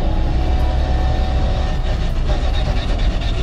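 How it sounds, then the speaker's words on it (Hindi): A Maruti Gypsy 4x4 drivetrain makes a steady, loud rumbling drone while driving, with a broad low roar and faint higher whine holding evenly throughout, no voices over it. "मेरे ना 4x4 से बहुत ज़्यादा साउंड आ रहा है"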